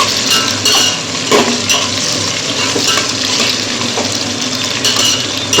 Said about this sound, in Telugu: ఇప్పుడు ఆనియన్స్, పచ్చిమిర్చి వేసుకోవాలి. బాగా రోస్ట్ అవ్వాలి ఫ్రెండ్స్.